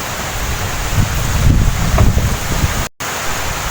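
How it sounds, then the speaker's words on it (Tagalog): Strong typhoon wind gusting in Borongan City, Eastern Samar, buffeting the microphone in loud rumbling bursts with a brief dropout near the end. "Kasalukuyan kami binabayo ng malakas na hangin."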